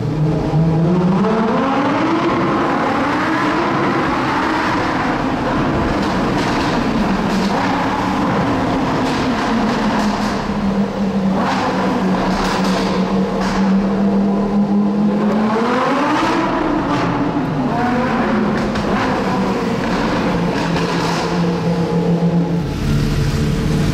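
A Lamborghini's exhaust revs loud and close, its pitch climbing and falling in repeated sweeps over a constant roar, with sharp crackling bursts scattered through the middle.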